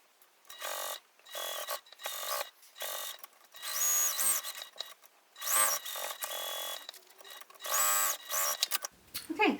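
A sewing machine bastes around a bi-fold wallet interior in several bursts of rapid mechanical stitching, each separated by brief pauses, close and fairly loud.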